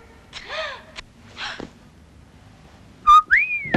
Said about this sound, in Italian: Ma chi ti ha dato il permesso da fischiare?